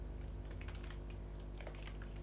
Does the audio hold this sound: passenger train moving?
no